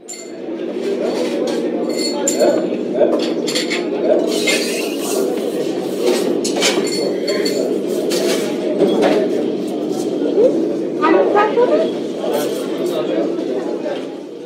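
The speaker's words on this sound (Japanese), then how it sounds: "エチオピアという国のコーヒーショップ" Ethiopian coffee shop ambience with repeated clinks of cups and dishes, bursts of hissing, and birds calling, all under steady chatter from people talking nearby.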